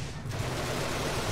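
A turret fires in the Genesis Alpha One video game as a dense, continuous roar of rapid gunfire blending into loud, noisy battle sound.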